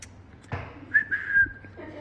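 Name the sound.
person attempting to whistle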